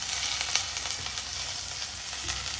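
Chopped onions fry in a pan for a home-style tomato saaru, giving a steady, dense sizzle with soft crackle that holds at an even level throughout, no voices.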